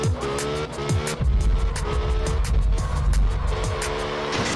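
Car engine revving and tires squealing while drifting in the video game Absolute Drift, a loud continuous engine roar with rising and falling pitch sweeps and screeching tire noise, no talking.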